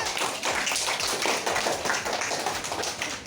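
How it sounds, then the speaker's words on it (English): Students in a classroom clap together in a steady, dense patter for a classmate, with no talking over it. "Give claps for him."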